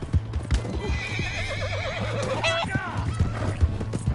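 A horse in Red Dead Redemption 2 clip-clops along while loud, wavering neighs and whinnies rise above the hoofbeats, with voices talking underneath.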